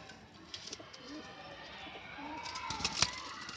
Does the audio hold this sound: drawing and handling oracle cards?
no